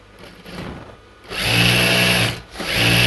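A sewing machine stitches churidar pants, its motor whirring steadily in two close bursts with a brief pause between, loud and near.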